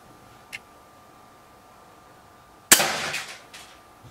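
A single sharp crack from a Webley Xocet air rifle being fired, loud and close, with a brief ringing tail, after a faint earlier tick and a quiet background.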